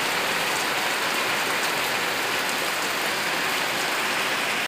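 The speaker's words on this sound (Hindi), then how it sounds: "बीच में देखिए बारिश का नज़ारा बहुत अच्छा लग रहा है।" Rain falls steadily as a dense, loud, even hiss of drops on surfaces, continuous throughout with no voices.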